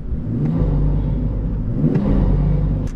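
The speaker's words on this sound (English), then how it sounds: "you get a lovely burble once you've got the induction kit on there" A BMW 540i xDrive fitted with a BMS Performance intake induction kit, its engine idling with a steady low rumble and burble heard through a slightly open window, close and continuous.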